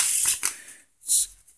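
A red-back Tally Ho No. 9 playing card deck is shuffled by hand, giving two quick papery riffle bursts, a short pause, then another crisp flutter, all close and fairly soft.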